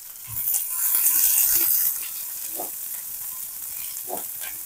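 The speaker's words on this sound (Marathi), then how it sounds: "नंतर त्याच्यामध्ये घालायचा आहे 1 कांदा चिरलेला आणि कांदा चांगला 1 ते 2 मिनिट आपल्याला परतून घ्यायचा आहे चांगला" A chopped onion sizzles and crackles in a hot pan with mustard seeds over a medium flame, loud at first, then a steady fry with occasional stirring scrapes, no talk.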